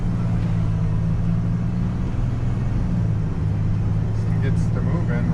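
Car moving along a road and picking up speed, its engine and tire rumble steady and close, with people talking over it.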